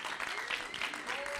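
Short burst of audience applause at a Tetris tournament on a main stage, with scattered clapping under a commentator's voice.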